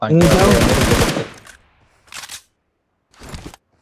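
Automatic gunfire in the Ultimate Royal battle game: a loud, dense rapid burst for about a second, then two shorter, quieter volleys after brief pauses.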